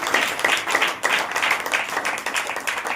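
A church congregation claps hands in praise of God. The crowd claps rapidly and unevenly, close and fairly loud, in a continuous stretch rather than a single clap.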